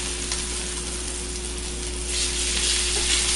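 Filet mignon sears in a hot pan with a steady, moderate sizzle that grows a little louder toward the end, with no talking.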